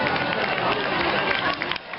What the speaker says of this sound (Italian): L'applauso per il celeste